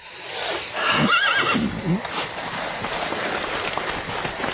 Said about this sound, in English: I better tend to the horses.